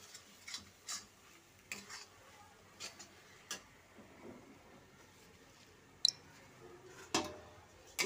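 Chana dal halwa stirred in a pan with the flame off, giving soft intermittent scraping and clinking of a spoon against the metal, quiet and close, with no one talking.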